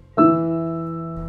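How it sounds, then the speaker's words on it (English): A piano plays E in four octaves at once as a single struck chord that blends into one full, sustained tone and slowly fades. "if you play them all at the same time on a piano,"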